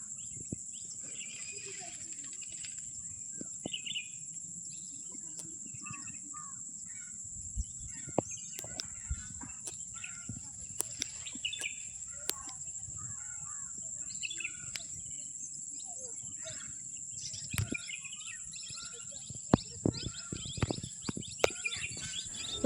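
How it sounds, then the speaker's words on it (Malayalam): Birds chirping and calling outdoors in a rural Kerala village near a banana plantation, with a steady high insect drone, scattered near and far bird notes and sharp clicks over a low background rumble. "ഇവിടുത്തെ കിളികളുടെ ഇതിൻ്റെ ഒക്കെ സൗണ്ട് നിങ്ങൾക്ക് കേൾക്കട്ടെ"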